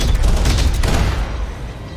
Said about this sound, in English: I just gotta use the auto cannons.